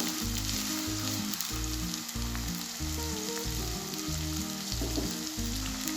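Finely chopped onions fry in cooking oil in a kadhai, sizzling steadily and loudly at close range with no talk, while a rhythmic background pattern runs underneath.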